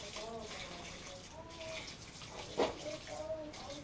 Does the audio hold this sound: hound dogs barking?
no